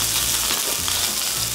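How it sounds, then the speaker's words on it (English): A loud, steady sizzle of a burger patty frying in a hot pan, with hissing and small pops throughout. "Listen to that sizzle."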